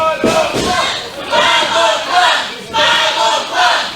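A wrestling crowd at an independent pro wrestling show cheers and yells for a tag team in loud swelling waves, several distinct surges rising and falling over a few seconds.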